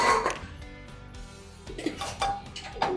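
A cooking pot is set down on a kitchen gas stove, giving a few close metallic clanks and clatters over a quiet room, with a sharper knock near the end.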